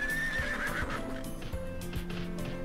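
A horse in a video game whinnies with a high, wavering neigh, followed by steady clip-clop hoofbeats over an ambient game backdrop.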